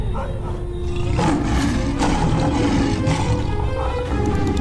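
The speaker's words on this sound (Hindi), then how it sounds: "ये तो शेर की आवाज है।" A lion roars loudly in a dense forest, a sustained, rumbling growl that fills the whole stretch with dense low rumble and no quiet gaps.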